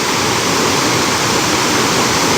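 Swift river water rushes steadily with a loud, dense, unbroken roar that sounds close and surging, and no voices cut through it.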